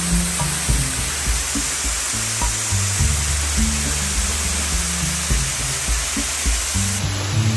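Véu de Noiva waterfall on the Maromba trail in Itatiaia National Park, Brazil: a steady, loud, broadband roar of falling water heard up close, constant throughout with no talk.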